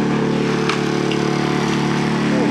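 A lawn mower engine runs steadily and loudly close by, a continuous droning hum with a faint clatter of debris thrown up partway through, set outdoors at a wood-burning bath house build.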